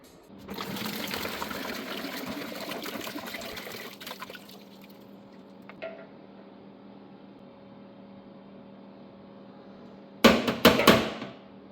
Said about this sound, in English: I'm gonna dump this all out and see what it looks like in there